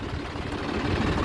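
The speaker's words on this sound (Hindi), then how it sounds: "आवाज़ देख सकते हैं बहुत ही शानदार जो है ट्रैक्टर की आवाज़ है" A John Deere 4x4 tractor engine runs steadily close by, a loud, continuous low rumble with no breaks, fitted with an extra 65-litre tank at the rear.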